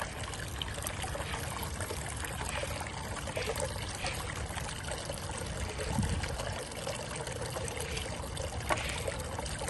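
Water runs steadily through a micron gold recovery machine, a constant close trickling and pouring flow with faint splashes and no speech.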